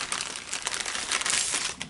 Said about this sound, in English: I think I threw all that stuff in a plastic bag.